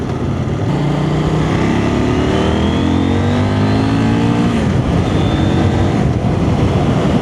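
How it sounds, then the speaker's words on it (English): A CF Moto 800NK motorcycle rolls on hard toward 60 mph, its loud, steady engine note climbing in pitch through the gears under continuous wind roar, with no talking. "The roll on up to 60 miles an hour there, as you saw, was no shortage of power in this bike at all."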